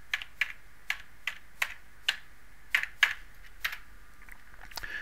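Computer keyboard keys tapped in short irregular bursts while typing a folder name, a dozen or so crisp clicks at close range with brief pauses between them, no talking.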